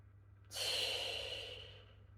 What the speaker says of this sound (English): So allow my breathing to be long, slow and deep.